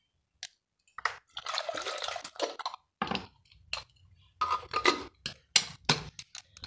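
Water is poured into a pan of soybean curry on the stove, splashing and dribbling in uneven bursts with short pauses, close and fairly soft, with no talking.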